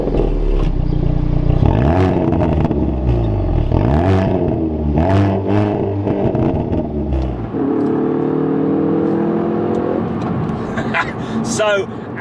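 A Hyundai i30N Performance accelerates hard on an open road, its engine and exhaust climbing through rising revs with gear changes, then settling into a steady drone with crackles near the end.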